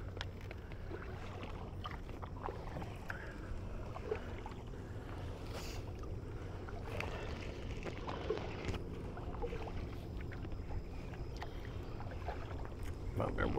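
A canoe or kayak glides over water with soft, irregular paddle strokes and splashes, faint and steady under light wind and quiet background noise.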